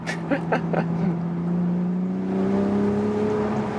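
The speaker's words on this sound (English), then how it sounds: "the manual mode is of course really cool, blopping from the exhaust valve" A BMW Z4 M40i sports convertible in manual mode revs its engine, the exhaust valve giving a rising, sustained drone with brief pops at the start, close and steady, no talk over it.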